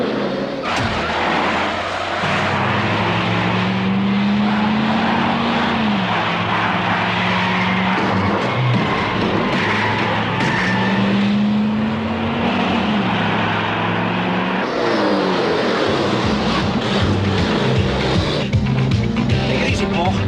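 A car engine revs hard and tires skid in a 1981 Italian car-crash action film, with loud sustained engine drone, rising and falling pitch sweeps, and continuous tire noise under faint voices.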